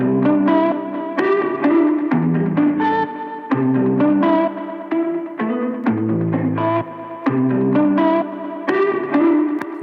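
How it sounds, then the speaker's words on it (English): A tape-style Echo Rec delay plugin with several reed heads engaged repeats a sustained, distorted instrumental phrase into layered rhythmic echoes, loud and continuous throughout with no talking. "So this knob controls how many reed heads are activated, allowing you to create rhythms using the combination of reed heads."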